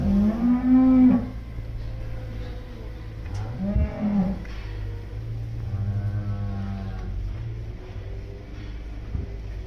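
Dairy cows and a calf moo in a barn, with several long, loud calls spaced a couple of seconds apart over a low steady background rumble and no talking.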